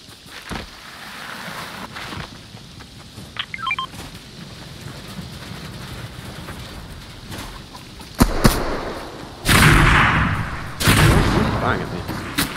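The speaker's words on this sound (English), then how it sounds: "He's firing at me." Video game gunfire and explosions as an enemy shoots at the player, with loud bursts near the end following a quieter stretch of scattered clicks and tones.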